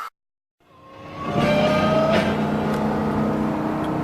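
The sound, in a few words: truck engine at full throttle climbing a hill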